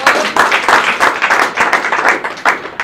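Dense, close clapping from an audience at a startup event fills the whole moment in a loud, continuous round.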